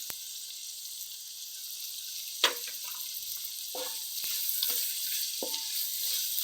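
Salt and chili powder being stirred into vegetable pulao frying in a pan, a steady soft sizzle with a few sharp spoon scrapes and clinks against the pan, close and fairly quiet, with no talking.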